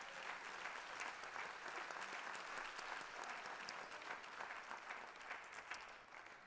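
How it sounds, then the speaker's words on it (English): Audience applause for students at a spring concert of Disney classics, steady and dense clapping from a full crowd that carries on evenly and thins only slightly at the end. "Let's give our students another round of applause."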